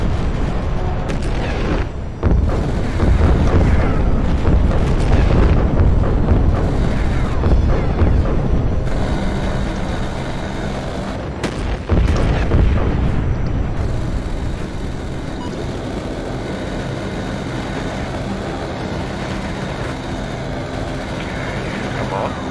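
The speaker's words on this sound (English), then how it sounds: "Fire volley on my designation. Roger. Firing cannons." A cannon volley booms in the mecha video game Mecha Knights: Nightmare, heavy low blasts rolling through the first half over a rumbling battle din, with voices talking over it before the noise thins out.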